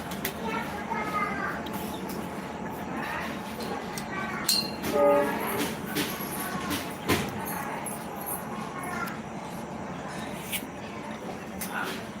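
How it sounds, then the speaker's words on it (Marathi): A train rumbles past steadily with a horn sounding briefly partway through, while people talk and children's voices carry in the background. "ट्रेनचा आवाज येतोय ट्रेन"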